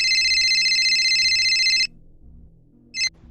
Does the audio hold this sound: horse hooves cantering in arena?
no